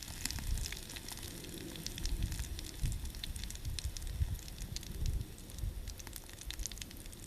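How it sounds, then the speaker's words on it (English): A small campfire lit from a candle outdoors among melting snow and ice, steady soft crackling and hissing with scattered pops, close but faint and continuous throughout. "now I think we have fire for real"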